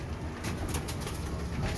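Pigeons coo softly at a pigeon market in Shahdara, Lahore, with gentle repeated calls over a busy, noisy background.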